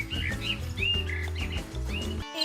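Cartoon bird chirping at night, a string of bright rising tweets laid over a steady musical background, loud and close with no talking.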